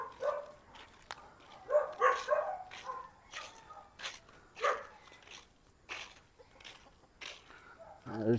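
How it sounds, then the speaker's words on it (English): A native chicken clucks from across the road in a residential neighborhood, with intermittent short calls at moderate distance over quiet outdoor background. "There's a chicken across the road."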